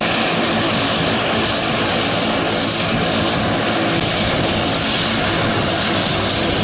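A Chinese-built MA60 turboprop airliner of a Cameroonian airline roars steadily and loudly nearby, its engine and propeller noise a dense, unbroken wash with no talk.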